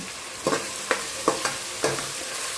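Tomato and green chillies fry over a medium flame in a pan for homemade mutton biryani. A soft, steady sizzle runs under five or so sharp scraping stirs that come at uneven intervals, close by with no voices.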